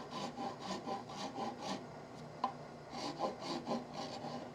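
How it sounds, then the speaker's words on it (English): Rhythmic strokes of a hand rasp shaping a cherry wood yarn bowl, steady back-and-forth rubbing in two bursts with a short pause and one sharp knock between them, fairly quiet and close. "I'm just using a rasp and I'm getting my curvature here."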